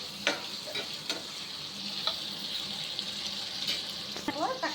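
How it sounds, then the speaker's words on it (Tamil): Onions and green chillies sauté in a pan on an electric stove, a soft, steady sizzle running throughout with a few quiet scrapes and taps of stirring near the microphone. "வெங்காயம் பச்சை மிளகா போட்டு வதக்கணும்."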